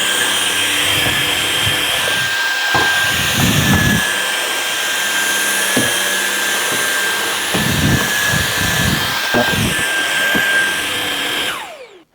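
A Levoit LVAC-200 cordless vacuum cleaner runs with a loud, steady high-pitched whine, broken by bumps and clatters as it is moved, then winds down sharply at the end.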